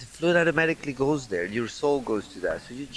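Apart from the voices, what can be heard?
No everyday noises stand out.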